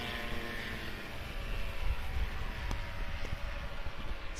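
Rotax-engined STOL airplane at an airshow short-takeoff competition drones steadily at a distance, a faint, even propeller-engine hum with slight swells and no voices.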